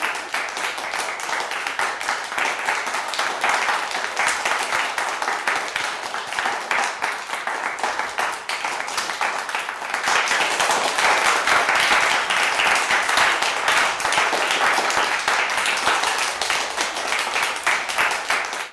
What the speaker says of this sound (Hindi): तो जोरदार तालियां सर के लिए।